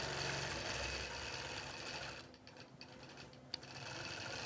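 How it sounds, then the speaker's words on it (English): A computerized quilting machine runs a stitching pattern across a quilt, giving a fast, even mechanical whir and needle chatter that drops briefly midway with a single sharp click before picking back up. "Mode over to the quilt button, hit my start, and let's quilt that out"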